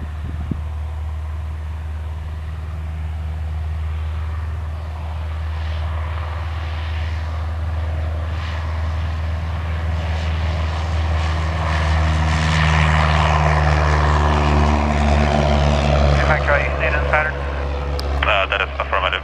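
A Cessna 172R Skyhawk single-engine propeller plane takes off at Princeton Airport, its steady engine drone building and rising in pitch across the clip, with radio chatter and voices over it.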